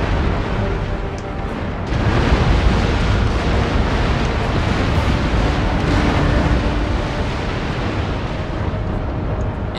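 Ships' cannon firing in a chaotic naval battle between pirates and Spanish warships in Empire: Total War, a dense rumbling barrage of overlapping booms with a continuous roar and no pauses.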